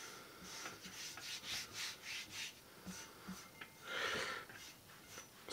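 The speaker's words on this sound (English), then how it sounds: "See, rubbing on this pipe, rubbing kind of goes away after a little." Chalk rubs against a black steel pipe in a series of soft, scratchy back-and-forth strokes, quiet and close, with one longer, fuller stroke near the end.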